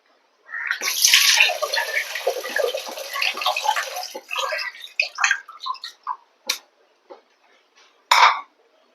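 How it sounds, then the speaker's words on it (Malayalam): Water pours into a pan of Kerala-style fish curry in a steady splashing stream for several seconds, then trickles off into a few drips and a last short splash, close and clear. "എത്രത്തോളം ചാറ് വേണോ അതിനനുസരിച്ചുള്ള വെള്ളം ഒഴിച്ചു കൊടുക്കാം"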